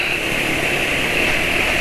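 A motorcycle engine running with Deltalube Adventure oil idles at low RPM, giving a steady, even drone with a whining edge, loud and unbroken throughout with no talk.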